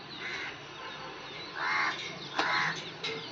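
Crows caw in the morning near a home at feeding time, giving several loud, harsh calls in a loose sequence over faint background noise.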